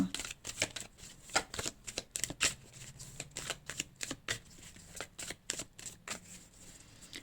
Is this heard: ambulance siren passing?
no